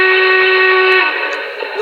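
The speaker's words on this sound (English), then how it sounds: "or another, Norfolk and Western whistle." A Norfolk and Western steam whistle from a Paragon 2 sound-equipped Y6B model train sounds one long, steady multi-chime blast, loud and close, with no talk over it.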